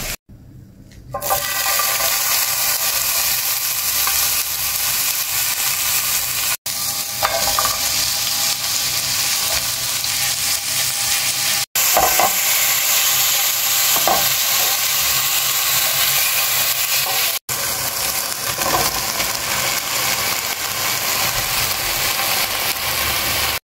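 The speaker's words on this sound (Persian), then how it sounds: "ما هویجا رو هم ریختیم داخل مایکروویو در حال سرخ شدن" Carrots and zucchini frying in a pan while being stirred, a steady loud sizzle running continuously with occasional scraping, close up and without talk.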